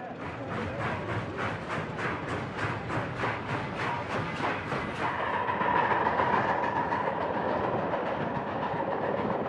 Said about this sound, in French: ils montent dans des trains et quittent la côte ouest